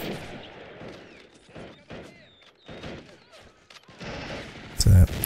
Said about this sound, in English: He's got a sneaky SMG tapping.